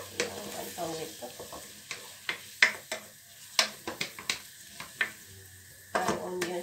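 Spinach cooking in a pan, a soft sizzle broken by repeated sharp scrapes and taps of a utensil against the pan, with someone talking between the strokes.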